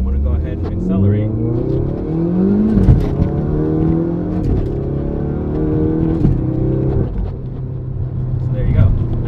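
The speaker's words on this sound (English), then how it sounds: "I just shifted up from first to second to third to fourth without ever touching the clutch pedal" A Ford Focus RS fitted with a Quaife sequential gearbox accelerates hard, engine revs climbing in rising sweeps with quick flat-shift breaks between gears, loud and close, while someone talks over it.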